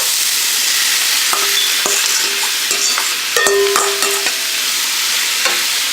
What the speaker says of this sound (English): So I'm just going to add my shrimp